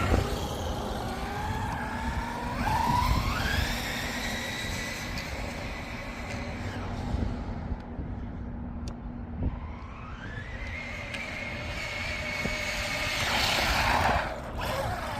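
A Traxxas Jato 4X4 VXL 4S RC car on a speed run pass, its high electric motor whine rising in pitch as it accelerates, holding, fading, then climbing again as it races back close by.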